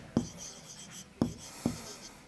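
Chalk or a marker writes on a classroom board in a geometry lesson: three short, distinct taps and strokes spaced through a quiet room, with a faint hum behind them.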